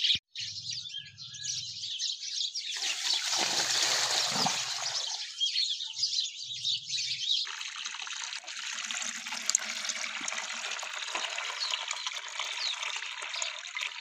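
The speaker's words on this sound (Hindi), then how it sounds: "अभी मैं इसको पानी डाल रहा हूँ" Water trickles and splashes as it is poured onto a potted grape plant left dry through winter. A steady pour runs for most of the stretch, with birds chirping nearby outdoors.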